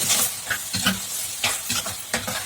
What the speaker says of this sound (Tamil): நம்ம எடுத்து வச்சுருக்கேன் இறாவை சேர்த்துக்கோம் இதை ஒரு ஒரு வதக்கு வதக்கிட்டு